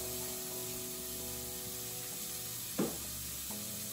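Diced onion and carrots sizzling in a soup pot, a low, steady frying hiss alongside a constant hum, with one short clatter near the end.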